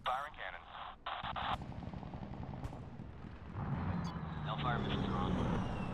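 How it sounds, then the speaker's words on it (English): An attack aircraft fires its cannon in the Medal of Honor combat game, a fast ripping burst of gunfire at the start followed by a rumbling engine drone, with radio chatter over it. "Firing cannon."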